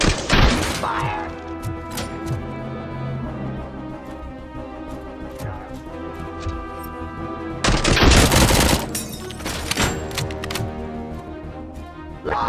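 Gunfire in RoboCop: Rogue City: sharp shots and rapid automatic bursts, loud and close, with heavier impacts around the middle, over a steady musical backdrop and occasional speech.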